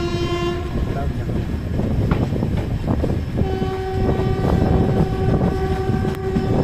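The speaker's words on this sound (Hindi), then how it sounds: "अभी अपना जो ट्रेन है तरेगना जंक्शन पे पहुंच चुका है।" Islampur Hatia Express passenger train rolling through Taregna junction, with a steady rumble and clatter of wagons, a held horn blast at the start and another long horn tone later, with faint voices in the background.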